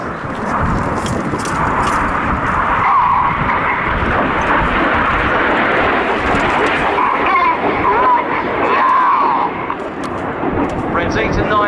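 Red Arrows jets fly the Hurricane manoeuvre at the 2017 Cosford Air Show, their engines producing a loud, sustained roar that swells and fades as they pass, with a voice talking over the noise.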